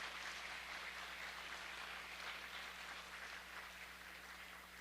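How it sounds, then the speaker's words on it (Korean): A congregation applauds at a Korean Presbyterian church retirement and installation service, with a soft, even wash of clapping heard at a distance over a steady low hum. "존경과 사랑의 박수를 또 부탁드리겠습니다"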